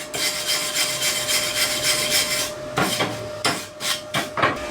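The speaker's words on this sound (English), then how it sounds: "we have to belt the slag off it because we're not using a shielding gas. Clean it up with a wire brush." A wire brush scrubs slag off a fresh flux-core MIG weld. A dense, continuous scratching gives way to several short, separate brushing strokes near the end, loud and close-up.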